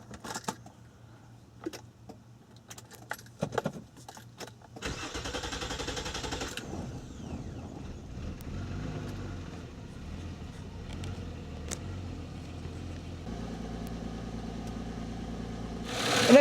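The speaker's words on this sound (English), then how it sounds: "let's go ahead and start the vehicle." A Nissan Maxima is started after a K&N fuel filter install, with a brief crank catching into a steady running idle that continues close by and moderately loud, preceded by a few small clicks and key sounds.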